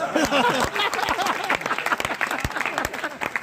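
An audience claps at a humorous satirical poetry recital (kavi sammelan) in Shamshabad. Scattered, fairly close claps sound beneath a voice that keeps talking throughout.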